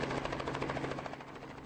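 Helicopter flying low during a three-day helicopter tournament in China, with a pilot using the aircraft to open beer bottles; a loud, steady rotor drone with a rapid pulsing chop runs throughout, fairly close, with no voices.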